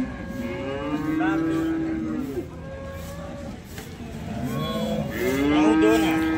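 A freshly calved cow at a busy cattle market lets out long, drawn moos, one early and another near the end, amid crowd noise and people talking nearby.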